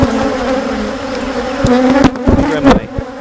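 Honey bees buzz loudly and close at an open hive, a dense, continuous drone with shifting pitch as individual bees pass near.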